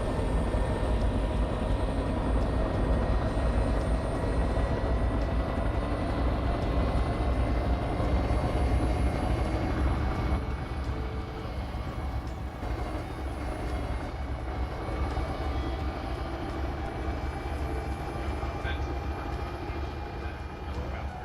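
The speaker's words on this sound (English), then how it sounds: "Don't know if that's an appropriate use for the medical helicopter or not" Steady, continuous rotor and engine drone of a medical helicopter in Farming Simulator 22, holding at an even moderate level throughout with no talk.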